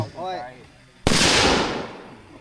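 A single sharp gunshot cracks loudly on a shooting range line and rings out with a decaying echo, following a brief spoken range command.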